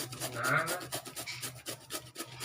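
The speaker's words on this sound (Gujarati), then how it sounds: "આપણે દૂધીને છીણી લીધી છે" Bottle gourd rubbed against a grater in quick repeated rasping strokes, soft and close, a rhythmic scratchy scraping with no voices.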